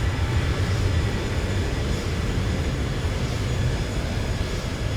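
Steady, loud engine roar from a Zibo 737-800 in the X-Plane 12 flight simulator, a continuous low rumble with broadband hiss holding evenly throughout, no talk over it.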